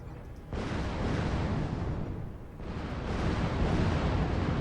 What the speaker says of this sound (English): That's so many missiles.